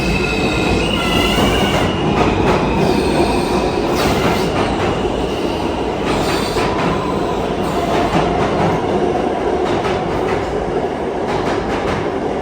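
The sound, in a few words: New York subway train passing through the station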